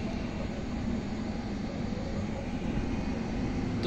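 A steady, continuous rumble and rattle fills the inside of a moving train near Asansol on an empty carriage, loud and unbroken with low-pitched rolling noise and no voices.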